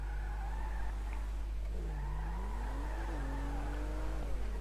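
A car driving in the video game GTA V, a steady engine drone with rising and falling pitch as it accelerates and shifts, moderately loud and continuous throughout with no talk.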